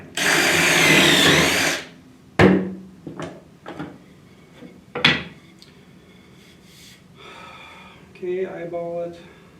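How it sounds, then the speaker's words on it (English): A power drill runs hard into a nice piece of wood for a bookcase cut, a loud steady whir lasting about two seconds, followed by several sharp knocks and clatters and some quieter handling noise. "So now it's locked in, I can drill that."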